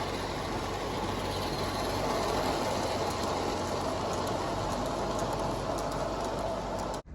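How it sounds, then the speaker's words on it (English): A garden-scale model train runs close by with a steady rolling clatter and hiss that holds constant, then cuts off abruptly at the end. "Well, it's about time we got a good tourist train around here, Keith."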